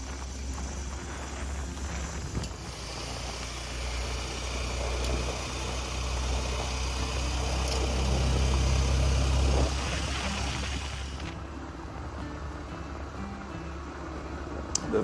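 Honda CT125 postie motorbike climbing corrugated mountain switchbacks on Mt Wellington in Tasmania, its small engine droning steadily under heavy wind rumble for the whole stretch, easing slightly near the end.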